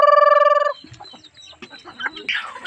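A chicken gives a loud, rapid run of clucks up close, then breaks into softer scattered clucking and rustling from the bird before a brief burst of noise at the end.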